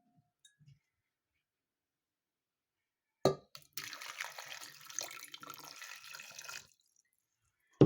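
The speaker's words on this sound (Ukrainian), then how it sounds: "І заливаю водою." After a few seconds of quiet, water gushes steadily into a pot of chopped pumpkin for about three seconds, then stops abruptly.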